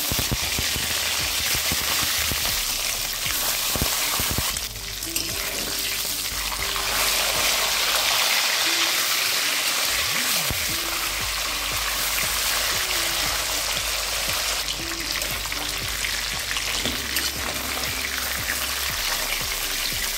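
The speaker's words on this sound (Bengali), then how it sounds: "মাছের মাথাটা আমার ভাজা হয়ে গেছে" Rohu fish head frying in hot mustard oil in a kadai, a loud dense continuous sizzle and spatter close up, holding steady the whole time.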